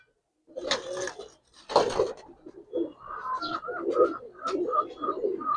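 A Toti pigeon is handled, with a couple of sharp rustling bursts of wing and body movement, followed by a run of low, bubbling coos repeated close by.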